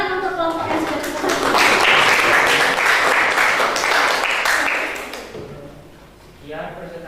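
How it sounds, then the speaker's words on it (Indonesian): A student group receives applause in a classroom: a dense burst of many hands clapping swells, holds for several seconds, then fades, with children's voices and talk underneath and after. "tepuk tangan untuk kelompok yang sudah berhasil."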